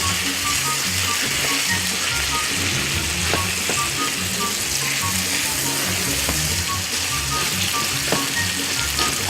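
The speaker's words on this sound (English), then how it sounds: "now we need to saute this." Morel mushrooms sautéing in a pan, a loud, dense, continuous sizzle with scattered faint clicks and scrapes of stirring underneath, close and steady throughout.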